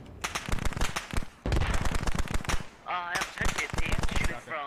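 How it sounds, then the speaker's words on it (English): Rapid bursts of automatic gunfire in the military shooter Squad, dense sharp cracks firing almost continuously with short gaps, loud and close, while a voice talks over part of it. "Sounds like we're taking fire from the southeast"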